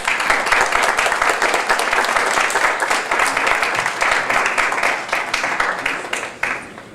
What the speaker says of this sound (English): give our panelists a quick round of applause